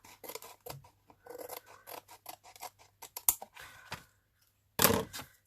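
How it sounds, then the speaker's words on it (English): Scissors trimming cereal packet card up close, a run of short crisp snips and rasping cuts in quick irregular bursts, a pause, then one final louder cut. "Just trim that off a bit better."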